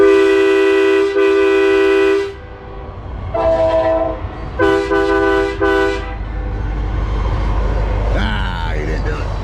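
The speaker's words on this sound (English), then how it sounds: "Here come choo-choo. Here he come. I hear him coming." Passing train sounding its horn in repeated long blasts, loud and close, with rumbling rail noise continuing after the horn stops.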